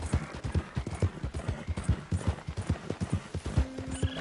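Hooves clip-clop in a quick, regular rhythm of close, sharp thuds, and a horse gives a short whinny near the end, with no speech.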